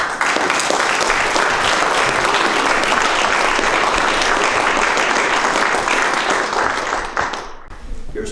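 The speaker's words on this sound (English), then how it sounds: "Can you please give them a round of applause?" An audience at the Samford University journalism Wall of Fame awards ceremony breaks into loud, sustained applause, a dense wash of clapping that fills the room before thinning out at the end.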